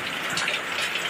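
Heavy rain mixed with hail pours down in a steady, dense hiss that stays fairly loud and even throughout, with no voices.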